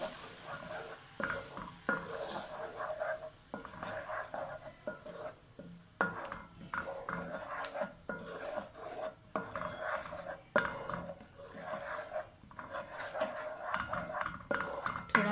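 Onion paste is stirred into chickpea masala in a pan, with repeated rhythmic spoon scrapes and soft clanks against the metal over a low sizzle, fairly quiet and close.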